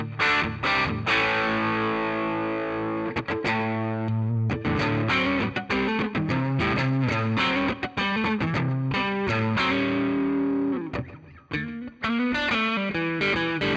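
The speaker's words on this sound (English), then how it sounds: "what happens if you put a drive on that?" Electric guitar runs through a NUX Mighty Plug Pro or BOSS Katana GO headphone amp with drive and reverb. It plays a busy distorted riff of rapid chords and single notes, loud and continuous, with only brief gaps near the end.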